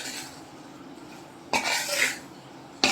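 A pot of amla cooking in melted jaggery is stirred with a utensil. Two short bursts of scraping and clinking rise over a low, steady background hiss, with no talking.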